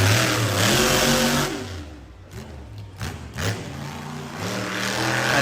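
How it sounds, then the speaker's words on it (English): A monster truck engine revs hard and loud nearby at a muddy night show, the roar dipping briefly between throttle bursts before climbing back to a full growl. "Let's listen to this beautiful truck."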